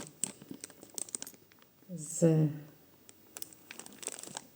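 A plastic package from a parcel of vintage jewelry crinkles and rustles in bursts as it is handled and opened, close by, while someone talks over it.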